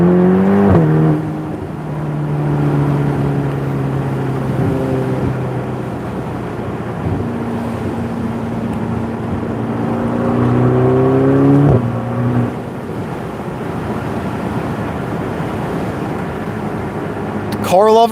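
A 2019 Ferrari Portofino engine running, a steady low drone with pitch swells as the revs rise and fall, fairly close and prominent throughout.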